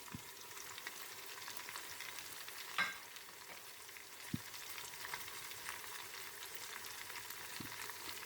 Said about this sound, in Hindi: और ज़ीरे के साथ हम इसको भूनेंगे।